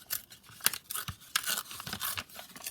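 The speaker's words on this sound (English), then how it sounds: "what I'm going to do is just tear this envelope." A paper envelope is torn by hand in a few quick, papery rips and crinkles heard close up, with no talking.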